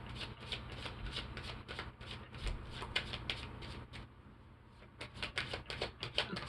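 Tarot-style advice cards being shuffled by hand, a steady run of quick riffling flicks that pauses briefly near the end and then resumes, close and fairly quiet, with no talk.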